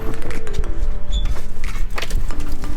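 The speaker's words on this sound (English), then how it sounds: "It's been raining all day." Rain drums steadily on the roof above a parked Volvo C30, a dense continuous patter that stays loud and close with no talking.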